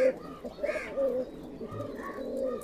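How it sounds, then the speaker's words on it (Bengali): Imported Pakistani pigeons coo softly in a short burst of low throaty calls, close by and fairly quiet, with faint background noise. "তো জাস্ট আপনারা দেখুন কবুতরের কোয়ালিটিগুলো কেমন"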